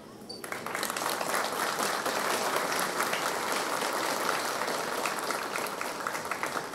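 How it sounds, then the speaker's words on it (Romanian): Audience applause fills a graduation ceremony at a national training school for agents, starting abruptly and holding as a steady, dense wash of clapping throughout, with no talk over it. "Se aplaudăm!"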